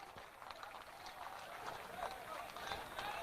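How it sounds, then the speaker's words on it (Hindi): Crowd at a party founding convention in Patna applauding, a steady broadband wash of claps rising slightly in strength over a few seconds, with faint voices mixed in. "मैं एक बार चाहूंगा कि सब लोग ताली बजाकर स्वागत कीजिए"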